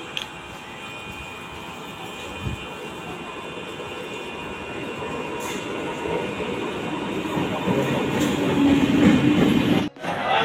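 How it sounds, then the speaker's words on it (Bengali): A down Bandel–Howrah local train pulls into platform 1 at an Indian railway station, its rumble swelling steadily louder over about ten seconds with a brief sharp clank near the end; no talking. "ডাউন ব্যান্টন হাওড়া লোকাল 1 নম্বর প্ল্যাটফর্মে আসছে।"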